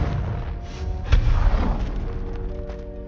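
A Confringo explosion spell in a Hogwarts video game fires with a sharp blast just past the first second, followed by a rumbling, decaying boom over low background game sounds.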